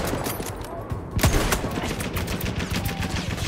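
Battlefield 1 gunfire: dense, overlapping volleys of shots with sharp cracks and a rattling burst, loud and continuous through the whole stretch.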